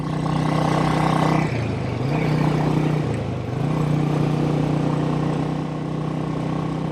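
A 1959 Indian Fire Arrow by Royal Enfield motorcycle riding along, its engine droning loud and steady up close, with pitch dipping and rising twice as the throttle eases and picks up again.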